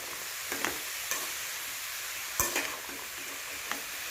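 Green pumpkin with salt stirred and frying in a pan, a steady soft sizzle throughout with a few sharp scrapes and clinks of the spoon against the pan, close and moderately quiet, no talking.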